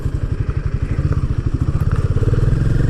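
A motorcycle rides over a potholed road in India, its mid-pitched engine pulsing steadily and close while clattering thumps and rattles from the rough surface sound over it.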